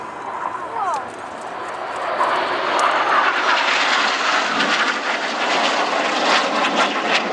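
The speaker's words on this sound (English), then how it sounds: "you've seen all 9 aircraft together performing close formation aerobatics" Red Arrows jets fly close formation aerobatics at the 2014 Farnborough Airshow, their roar swelling from a distant rumble to a loud, sustained rush overhead while voices carry faintly beneath.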